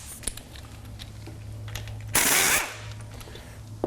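A power driver fitted with a 1/4 inch Allen bit spins out a centering pin on a Baker drivetrain, a short loud half-second rattling buzz over a low hum, with a few clicks around it.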